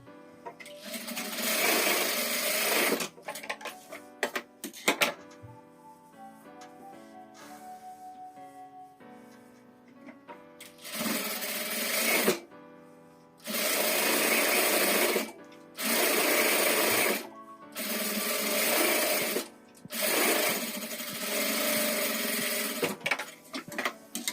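A sewing machine stitching fabric scraps for a homemade scrap-fabric trash bin runs in short, loud bursts of rapid stitching, with stretches of softer handling noise and pauses between runs.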